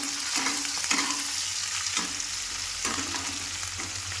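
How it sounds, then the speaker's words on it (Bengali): Onion and garlic frying in a pan for a chicken curry, a continuous close sizzle broken by several scraping stirs of a spoon, with no voices. "পেঁয়াজ রসুনটা ভেজে নিলাম"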